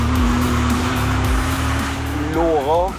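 A 2017 Nissan GT-R is driven hard around a circuit, its engine droning loudly and steadily close by, then rising and falling through gear changes, while someone talks over it.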